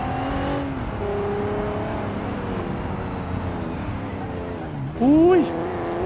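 Game car from BeamNG.drive driving continuously with steady engine drone, a brief louder burst with a rising whine near the end, while a person talks over it throughout.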